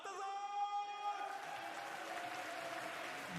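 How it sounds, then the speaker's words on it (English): A basketball arena crowd cheers at a B.League game between Shiga Lakestars and Ibaraki Robots, as a sustained tonal sound fades into broad, moderately loud crowd noise. "Really a cheer more than anything else"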